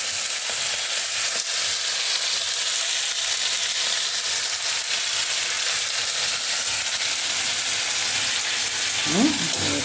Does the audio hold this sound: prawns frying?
yes